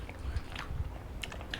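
Crunchy fried black drum fish being bitten and chewed up close, with soft, crackly crunches in an irregular rhythm and no talking.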